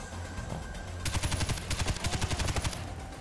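Automatic gunfire crackles in the shooter game Far Cry 4: a quiet lull, then rapid, loud bursts of repeated shots for about two seconds before easing.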